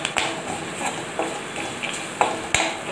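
Spices frying in a small tempering pan for tomato rasam, with soft stirring and a few sharp spoon clicks against the metal over a faint sizzle, close up.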